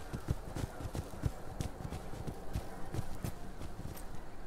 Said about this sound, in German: Da ist auch so ein Pferdchen, was wegkoppelt.